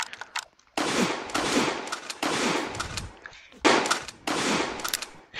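Loud, sustained bursts of automatic gunfire from the Roblox game The Streets, several long volleys separated by short gaps, close and dense, with no talk over them.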